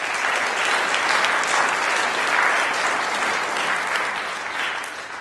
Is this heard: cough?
no